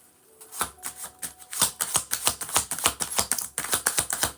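Tarot cards are shuffled by hand in quick riffling bursts, a rapid run of crisp close clicks and flutters with brief pauses, no voices.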